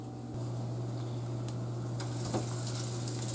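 A steak sizzles in a hot pan, a steady, dense frying hiss that runs unbroken from start to finish with a few faint crackles and scrapes.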